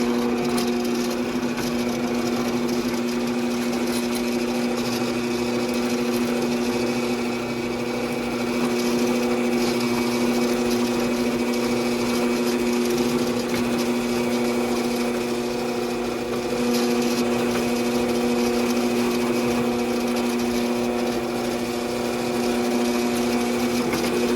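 A power drill with a countersink bit whirs steadily at high speed for a long stretch while enlarging a hole, a constant motor hum with slight dips in pitch, loud and close.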